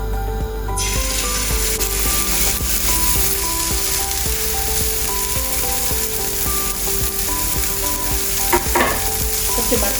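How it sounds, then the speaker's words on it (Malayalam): A beef steak fries in olive oil in a hot pan, giving a loud, steady sizzle with faint scraping and stirring touches throughout. "ഇനി നമുക്ക് നമ്മുടെ സ്റ്റീക്ക് ഇതിലേക്ക് വെച്ച് കൊടുക്കാം."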